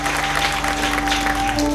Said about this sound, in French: Est-ce qu'on peut l'acclamer un peu?